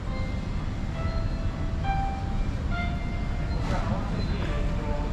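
A metro train rumbles steadily through a station in China, with a continuous low roar, faint squeals and tonal beeps or chimes above it.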